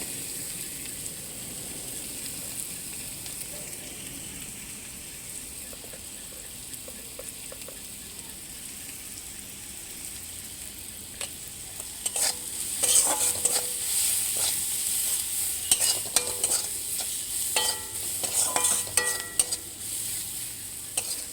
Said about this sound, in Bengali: এবার এক এক করে আমি সব মশলা দিয়ে দেব, তারপর মশলাটা ভালো করে কষিয়ে নেব।